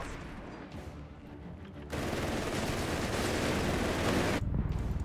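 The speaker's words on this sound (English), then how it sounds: "Lots of Lee Enfield fire, and of course the Vickers." Lee Enfield rifle shots and Vickers machine gun fire in the video game Company of Heroes 3, a continuous crackle of gunfire that swells into a louder, denser barrage, with no voices.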